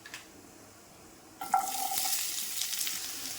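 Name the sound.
onions frying in hot oil in a pan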